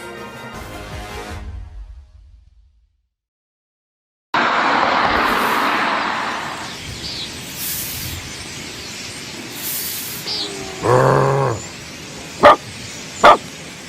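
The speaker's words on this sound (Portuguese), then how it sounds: "Sai daqui, cachorro!" A dog barks a few times near the end, sharp and fairly close, after a stretch of silence and a long steady hiss.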